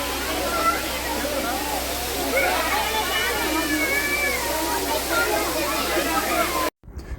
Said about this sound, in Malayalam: അങ്ങനെ നമ്മളിതാ വെള്ളച്ചാട്ടത്തിൻ്റെ താഴെ എത്തിയിട്ടുണ്ട്.